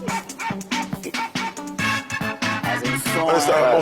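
Dog bark effect in a song: loud, rhythmic barks and yips punched in on the beat over a driving music track.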